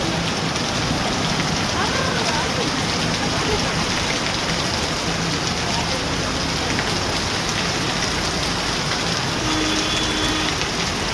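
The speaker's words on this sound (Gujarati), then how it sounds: "આજે વરસાદ તાબડતોડ ખબડી પડ્યો છે" Heavy rain pours down in a steady, dense roar that stays loud and unbroken from start to finish, with no other distinct sounds standing out.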